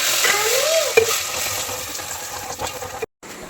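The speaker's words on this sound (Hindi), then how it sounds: "इधर जो है मैंने सब्ज़ी छोंकने के लिए रख दी है। और सब्ज़ी जो है मैंने वो छोंक भी दी है।" Vegetables fry in a cumin and tomato tempering with green chillies, a steady close sizzle with occasional stirring scrapes, then a brief cut to silence near the end.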